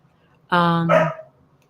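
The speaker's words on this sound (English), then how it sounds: "you can hear my dog barking" A single dog bark, close and fairly loud, followed by a short trailing yelp, with quiet background otherwise.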